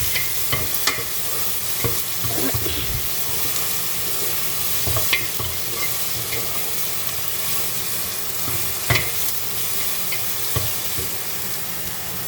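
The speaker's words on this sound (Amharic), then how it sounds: "ከዛ ወዶች እዚህ ጋር አንድ ራስ ቀይ ሽንኩርት አለኝ። ከዛ ወዶች እንደዚህ እናብላላለን ማለት ነው።" Red onion sautés in a hot pan, giving a steady sizzle with scattered stirring scrapes and clicks spread through the run, close and moderately loud, with no talking.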